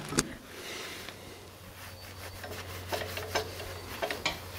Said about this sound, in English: I need to wipe that part off with acetone just because that's the sealing surface.